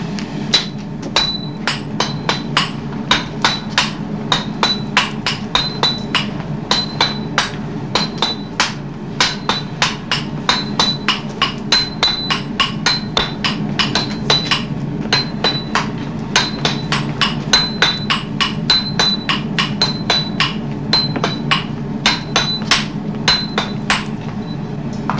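A hammer pounds steel during traditional Japanese sword forging, with a steady, rapid run of loud, ringing metallic strikes continuing alone and close throughout.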